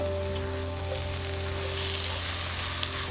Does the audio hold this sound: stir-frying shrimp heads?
yes